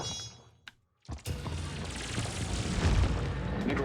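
A deep, heavy boom from the CrossfireX shooter game, starting after a brief silence and swelling into a sustained, rumbling roar that fills the rest of the stretch.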